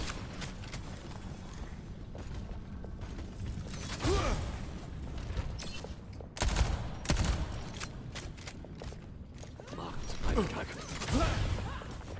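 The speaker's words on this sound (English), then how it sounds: "I'm reloading." Weapon reloading in Overwatch gameplay: clicks and mechanical clacks of magazine handling mixed with scattered gunfire bursts and clatter, moderately loud in a busy game mix without speech.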